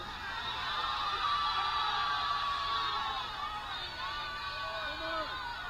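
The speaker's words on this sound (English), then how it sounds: "The crowd here at Oglethorpe University certainly spirited." A spirited crowd at an Oglethorpe University men's soccer game, a steady mid-distance roar of shouting and cheering voices that holds throughout with a few rising whoops.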